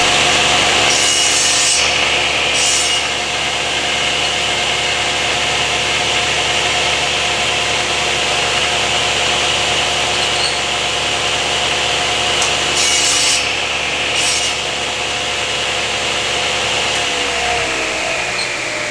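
A router on a PantoRoute jig cuts a wooden tenon, a continuous loud motor whine with gritty cutting and rubbing noise, plus a few brief brighter bursts as the bit bites into the wood.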